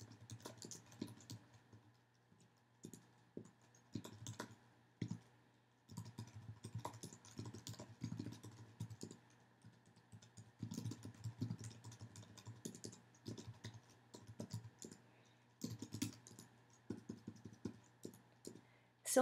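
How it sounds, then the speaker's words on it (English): Typing on a computer keyboard, close and quiet, with irregular bursts of rapid key clicks separated by short pauses, no talking. "Type in your customer information"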